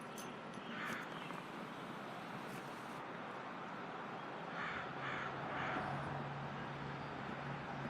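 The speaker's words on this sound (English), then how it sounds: "Old Shaggy's tearing after the old starling jays" Noisy birds called starling jays, black-headed and chasing about the trees, caw repeatedly at middle distance through a steady outdoor hiss, with a brief burst of louder calls midway and no talking.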